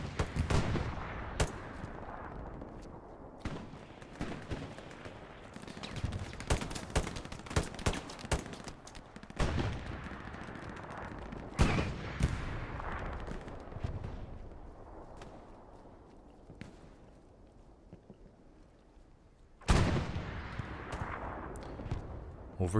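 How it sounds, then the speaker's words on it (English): Bursts of smoke rounds and scattered gunfire in the Hell Let Loose battlefield game, a steady rumble of combat with sharp loud cracks spaced irregularly, heavier bursts near the start and again near the end. "Over here to the back, we have some smoke rounds going off."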